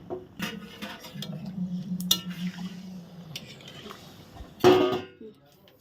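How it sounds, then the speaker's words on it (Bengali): A spoon stirs meat curry in a pot after a little water is added, giving soft scraping and squishing with scattered metallic clinks and a sharper clatter near the end. "এখন নেড়ে চেড়ে দেবো"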